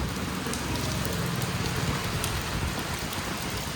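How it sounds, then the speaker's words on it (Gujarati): Heavy rain pouring steadily in Surat, a dense, loud, continuous hiss of drops drumming on surfaces nearby with no pauses. "એટલો બધો વરસાદ પડે છે, બહુ જોરમાં"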